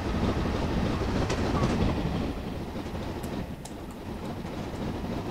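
A train in Train Simulator 2016 rolls over the rails with a steady rumbling clatter of wheels on track, continuous and fairly close, with no talk.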